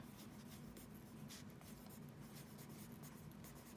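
Marker scratching steadily across a whiteboard during a math lesson on adding fractions with different denominators, a continuous close, dry rubbing stroke with no voice over it.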